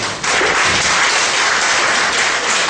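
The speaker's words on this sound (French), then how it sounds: "je vous prie de l'applaudir très très très fort" Loud, dense applause from a crowd at a student association's integration day, honoring an invited guest; vigorous, sustained clapping that starts abruptly and keeps an even roar throughout.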